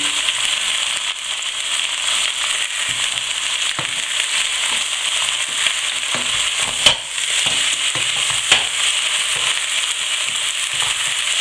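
Bacon lardons frying with browned rabbit pieces in a pan, a steady close sizzle throughout with a few small pops and crackles, no talking.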